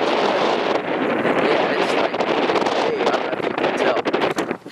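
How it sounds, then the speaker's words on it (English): Strong outdoor gusts batter a microphone, a loud continuous roaring rumble that swells and buffets throughout, with no clear talk. "It's gusty, big deal."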